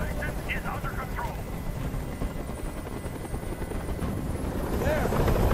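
A helicopter hovers overhead in a video game, its steady rotor roar running continuously and swelling slightly toward the end, with voices faintly heard in the mix.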